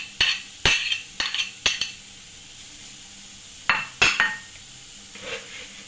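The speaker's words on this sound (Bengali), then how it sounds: "এর মধ্যে দিয়ে দিলাম পনিরটা।" Grated paneer goes into a hot kadai and is stirred, giving sharp metallic scrapes and clinks in short bursts, several close together, then a pause and a few more.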